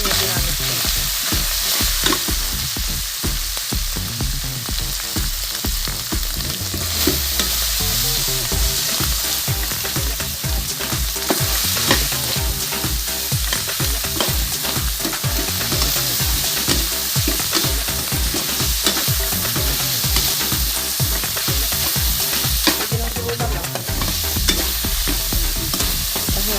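Garlic, white onion and vegetables stir-frying with ground pork in a pan, a loud continuous sizzle broken by rhythmic scraping and stirring strokes throughout, with no talking.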